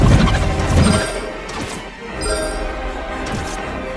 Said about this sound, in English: The submarine shot out a burst of pure sonic energy, shaking the architect and scattering broken glass in all directions.